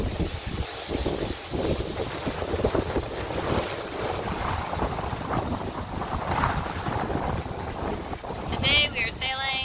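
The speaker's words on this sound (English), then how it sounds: "Today we are sailing with a reef main because we know that there is some wind out there." A sailboat under a reefed main in strong wind heading toward Langkawi, with steady gusting wind buffeting the microphone and water rushing along the hull, loud and continuous, and a faint voice near the end.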